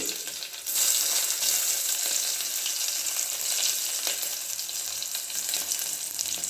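Curry leaves and garlic frying in hot oil, a loud, close, continuous crackling sizzle that jumps up sharply as they hit the pan and stays dense throughout.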